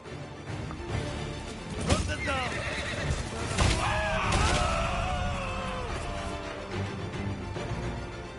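In Ghost of Tsushima Director's Cut, a horse neighs loudly during a horse charge over clattering hooves and battle noise, with shouts and clashes in a busy game scene.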